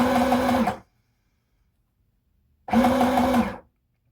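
A sewing machine stitches red cotton skirt fabric in two close, loud bursts of rapid mechanical whirring, each under a second long, separated by a silent gap.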